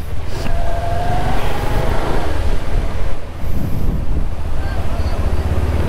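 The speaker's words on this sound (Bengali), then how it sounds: "দেখতেই পাচ্ছ কী রকমের হাওয়া বাতাস চলছে, একদম মানে ঝড়ের মতন" Strong gusty wind buffets the microphone outdoors during a motorbike ride near a bridge under stormy, cloudy skies after rain, a loud steady low roar with brief dips.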